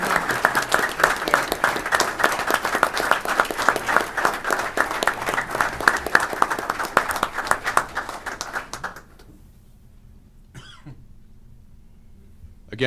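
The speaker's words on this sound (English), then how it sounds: "Give them a big round of applause." An audience at a city freeholder meeting applauds first responders with a loud, sustained round of clapping that lasts about nine seconds, then abruptly drops to near silence broken only by a faint knock.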